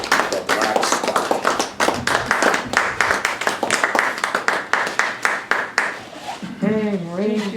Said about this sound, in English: So give a little applause for her as she stands and presents her talk on the black spot.